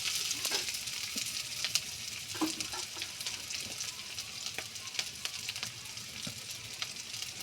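Chopped onions and slit green chilies sizzle in hot oil in a pan, a steady close crackle peppered with sharp pops and stirring scrapes, with no talking.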